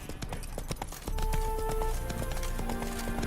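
Geralt's horse Roach trots in The Witcher 3, a steady clip-clop of hooves close by, joined partway through by a sustained background music tone.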